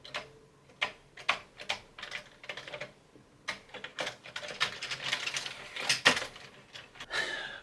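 A Commodore C16 computer keyboard being typed on in short, irregular bursts of crisp plastic key clicks, close and fairly quiet, with brief pauses between the clusters.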